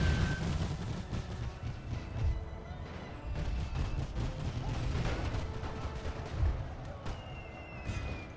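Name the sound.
gunfire in a battle, from the video game The Great War Mod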